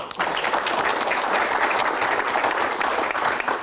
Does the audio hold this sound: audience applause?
yes